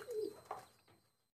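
A pigeon on a farm gives a couple of soft, low coos close by, a brief throaty call fading out after about a second in quiet surroundings.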